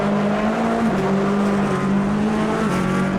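A GTE Pro race car in Automobilista 2 at Daytona, a loud droning engine note that steps through gear changes as it passes close by, with no talking.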